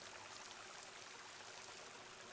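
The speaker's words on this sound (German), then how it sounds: "Das Wasser kommt hier rein" Rushing water flooding in within Horizon Forbidden West, a faint, steady broadband wash like a stream, continuous and distant without breaks.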